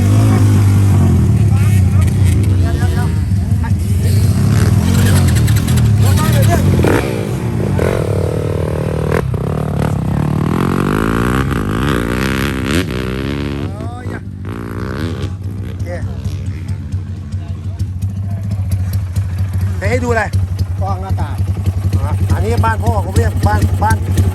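A motorcycle engine revs hard during a wheelie at a Thai motorbike track beside the Suvarnabhumi irrigation canal. The roar is loud, continuous and rises and falls in pitch, with people talking over it throughout.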